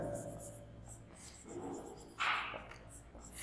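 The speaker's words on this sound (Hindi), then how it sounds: "सबसे पहले जो गिवन है उसको रिप्रेजेंट करेंगे, तो लिखेंगे ऐसे" A pen scratches out a maths trigonometry solution on paper in short strokes, one louder, brisker scribble near the end, quiet and close under a faint speaking voice.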